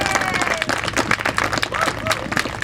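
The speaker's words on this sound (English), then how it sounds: "a big round of applause for George." Audience applause at a signing ceremony for a men's water polo player, loud and fairly close, a burst of many hands clapping mixed with crowd murmur and a voice speaking over it.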